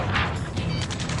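Enemy gunfire in a sci-fi shooter game crackles in a short, dense volley of rapid shots over loud combat noise, with no speech.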